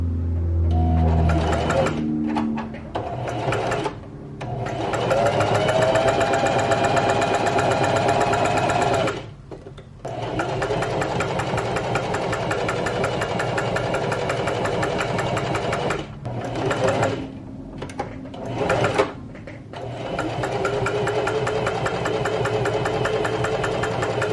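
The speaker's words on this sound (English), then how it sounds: "I'm gonna sew it along this line that's not the fold, and then this down here." A sewing machine stitches fabric along a seam, running in long steady whirring bursts with a fast mechanical rhythm and several short pauses between runs, close and loud with no talking.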